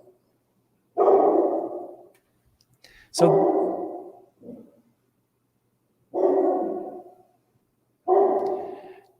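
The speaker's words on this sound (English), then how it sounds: "Sorry, it's my dog." A pet dog barks four times in separate loud, close bursts with pauses between them, and a voice is briefly heard around them.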